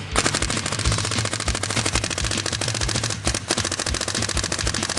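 Virtue paintball marker board in Auto Response Mode firing a rapid, steady stream of sharp shots like a machine gun, close and loud, with no talking.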